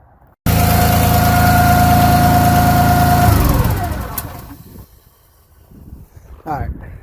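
A spray truck's engine drives the sprayer pump loudly and steadily for about three seconds, then winds down and fades, with faint handling noises and a short burst of talk near the end.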